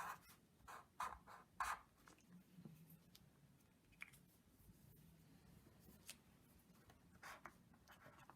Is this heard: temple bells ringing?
no